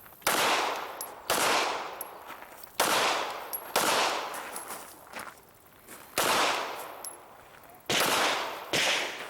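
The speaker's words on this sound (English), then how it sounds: "Reload, step back, and re-engage with 2 headshots." Handgun shots ring out at an outdoor IDPA shooting match, fired in loud, sharp pairs and bursts with a brief gap for a reload, each crack trailing a short echo.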